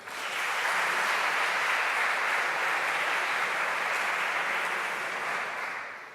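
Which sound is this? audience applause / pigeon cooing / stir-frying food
audience applause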